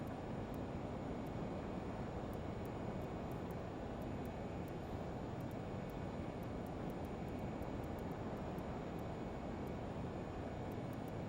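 Steady, even roar of a Learjet 35's jet engines in a flight simulator, a continuous broadband drone with no breaks, heard alone at moderate level for the whole stretch.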